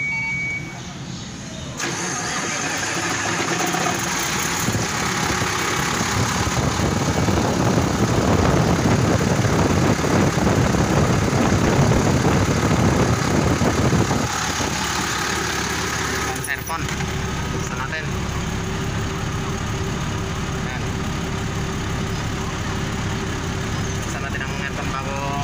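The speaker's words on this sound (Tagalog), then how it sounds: "Pandarin natin yung makina." A car engine idles steadily during freon charging of the air conditioning, a loud continuous mid-pitched hum with a shift in tone partway through, the running engine close and constant.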